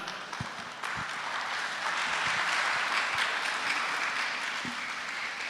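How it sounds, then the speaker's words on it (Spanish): Applause from a church congregation after someone speaks about the Holy Spirit at a sermon, a broad, sustained wash of many clapping hands that swells after a brief start and carries on steadily throughout. "Un aplauso para la hermana."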